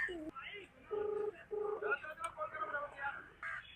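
Phone dialing tones beep in short steady bursts as someone calls a friend during Holi, with a voice talking over and between the tones.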